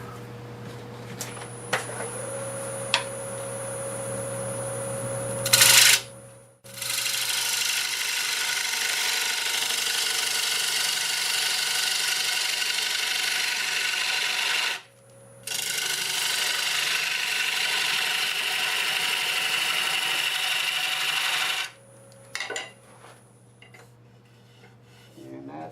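A wood lathe turning a spalted walnut piece as the tool thins its wall from about half an inch toward three-eighths, with two long sustained bursts of broadband cutting hiss over a steady motor hum, separated by brief pauses.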